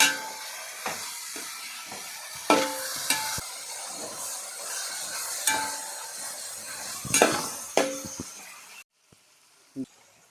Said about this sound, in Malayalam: ഇത് നമുക്ക് ഒന്നുകൂടി മിക്സ് ചെയ്യാം